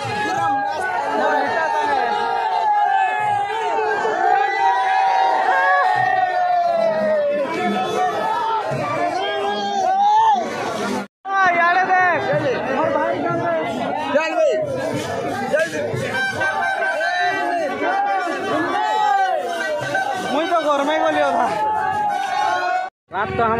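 Dense crowd babble at night during the Gurundia Rath Yatra festival, many voices chattering, shouting and whooping together in a continuous loud hubbub that fills the whole stretch with only brief breaks.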